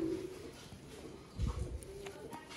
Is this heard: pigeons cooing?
yes